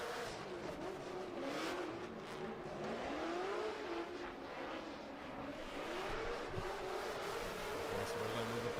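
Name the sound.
drift car engine at a drift championship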